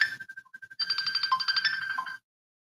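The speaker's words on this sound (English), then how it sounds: "Jay Jackson is calling back in" An electronic telephone ringtone on a live call-in show announces an incoming caller, a bright repeating melodic pattern that plays steadily for about two seconds and then cuts off abruptly.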